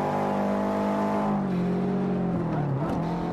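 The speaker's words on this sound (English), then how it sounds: "this is very rally like drifting round bends" Rally car drifting round bends in Forza 5, a loud, steady engine roar holding high revs, then dipping and rising again near the end as the car slides through the corner, alone with no talk.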